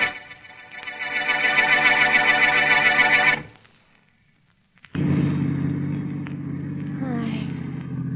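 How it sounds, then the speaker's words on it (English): A car motor drones steadily for a few seconds, cuts out briefly, then a second engine rumbles in, humming loudly and evenly as a vehicle drives slowly by. "there's a car going even slower"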